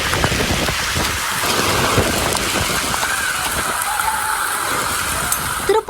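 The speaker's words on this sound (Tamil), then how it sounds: "பரவலாக கனமழை பெய்தது" Heavy rain pours steadily in the Tamil Nadu region, a dense continuous hiss of drops on surfaces with no voices, ending in a brief disturbance near the close.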